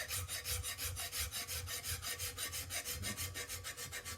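Draw filing across metal on a Brown & Sharpe bench center: rhythmic rasping strokes, roughly five per second in an even back-and-forth pattern, close and quiet, with no voices.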